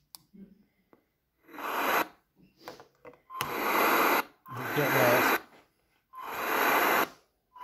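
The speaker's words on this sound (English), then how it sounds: "we've got the radio on. You can use the white noise." A radio hisses out loud bursts of white noise in long repeated stretches of roughly a second each, separated by quiet gaps, during a nighttime ghost-hunting vigil, with faint voices between the bursts.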